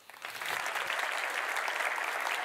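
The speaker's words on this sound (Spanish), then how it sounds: "Un aplauso primero a la que creéis que funcionó" Applause from a conference audience at a tech event, dense steady clapping that swells in quickly and holds at full strength throughout, with no voices over it.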